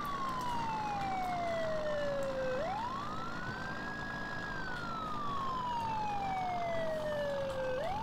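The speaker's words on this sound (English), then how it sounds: "Cool siren kind of gets annoying after a while, though." Loud wailing police siren from a Ford F450 Police Edition in Farming Simulator, rising and falling in long sweeps, continuous and close, with no voices.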